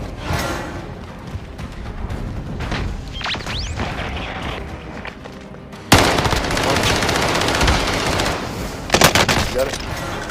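Gunfire in Call of Duty Warzone, with sustained automatic bursts and sharp shots over a constant game background, growing louder and denser after a sudden jump midway, with game effects mixed in.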